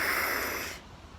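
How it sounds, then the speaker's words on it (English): A child sniffs a rock held close: one brief breathy inhale, near and fairly loud, fading after a second with no talk. "sniff a rock."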